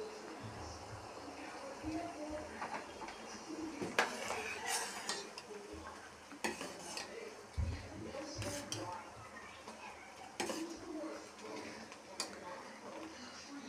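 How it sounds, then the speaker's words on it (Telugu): Ghee bubbling in a pan while a spoon stirs it, with repeated clinks and scrapes of metal against the pan over a steady low simmer, close and moderately loud. "మనం దగ్గరుండి ఇలా స్పూన్తో కలుపుతూ ఉండాలి, లేకపోతే బయటకు వచ్చేస్తుంది"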